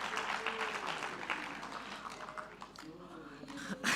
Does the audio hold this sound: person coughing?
no